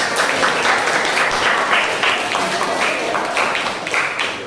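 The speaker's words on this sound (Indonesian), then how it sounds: "Beri tepuk tangan ini untuk kelompok setan." A classroom of students claps for a student group, a dense, loud, steady patter of hands filling the room without pause.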